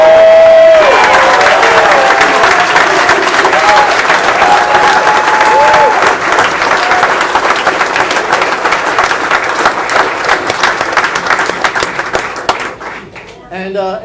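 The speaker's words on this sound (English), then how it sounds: "How about a big round of applause for all the veterans who are here?" A crowd applauds veterans at a 2016 congressional campaign kickoff rally indoors. The clapping is loud and sustained, mixed with some cheering and whistles, then slowly tapers off over about fourteen seconds.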